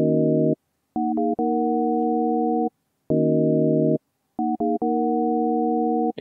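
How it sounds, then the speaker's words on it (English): A plain sine-wave synth tone plays a simple MIDI melody of sustained notes and quick short ones, with brief gaps between phrases, clean and steady. "so with a basic sine wave, the MIDI sounds like this."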